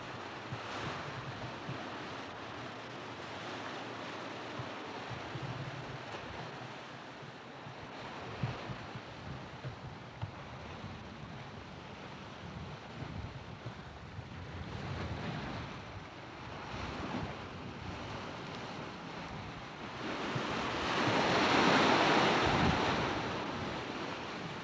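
Ocean waves wash steadily against the shore while wind buffets the microphone, with a louder surge of surf near the end and no talking.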